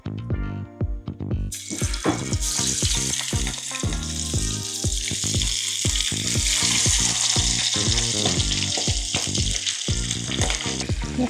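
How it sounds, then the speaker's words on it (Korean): Starch-coated chicken drumsticks, onion and other vegetables deep-frying in oil at 170 degrees, a loud dense crackling sizzle that rises and holds steady, close up, with no talking. "전분가루만 묻혀가지고 조금 바삭하게 튀길"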